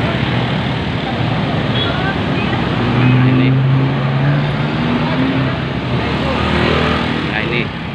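Harley-Davidson motorcycles and other vehicles queuing on a road during a Bali charity ride, a loud steady rumble of idling and slowly moving engines with someone talking over it.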